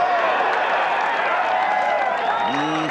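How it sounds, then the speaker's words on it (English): The gallery at the 18th hole of Pebble Beach during the final round of the 1982 U.S. Open cheers and applauds a Jack Nicklaus birdie, a steady roar of clapping and crowd noise, with a brief voice rising near the end. "Noise you hear. Crowd here at 18 has just seen that Nicklaus has birdied the last hole on the scoreboard."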